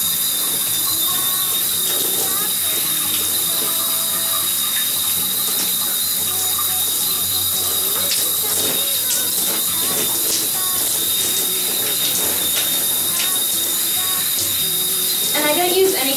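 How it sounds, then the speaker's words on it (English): Water runs steadily as apple cider vinegar is rinsed out of hair, a continuous close hiss of spray lasting throughout. "So then I will rinse all that out."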